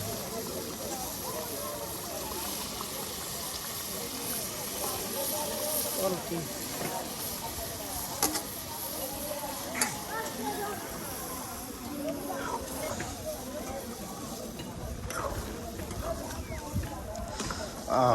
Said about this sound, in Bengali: এই যে মাংসগুলো এখন দিয়ে দেওয়া হচ্ছে।